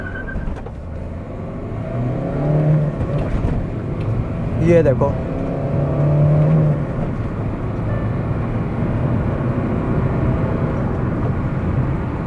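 A Hyundai Venue accelerates hard to 100 with the air conditioning switched off, heard from inside the cabin as a steady, swelling engine and road drone while someone speaks briefly.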